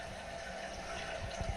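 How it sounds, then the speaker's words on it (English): Water running into a brand-new toilet tank just after the supply is turned on, a steady close rushing fill with a slight rise in low gurgle near the end, no talking. "Turning that water on,"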